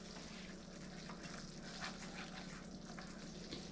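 A whisk stirs sauce for a butterbeer iced latte in a pan, giving a steady, close bubbling and sizzling wash with soft scraping, continuous for the whole span and free of talk.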